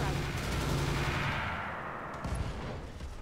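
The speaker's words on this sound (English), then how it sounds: "And firing." Gunfire in the tactical shooter game Roguepoint: a dense, sustained barrage of shots that rolls on steadily for several seconds, loud and close, with a brief burst near the end.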